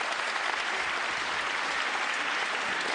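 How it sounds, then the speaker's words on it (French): Audience applause at the Talents des Cités 2014 awards ceremony, a dense, even burst of clapping from many hands that holds steady throughout. "Les autres candidats vous applaudissent aussi."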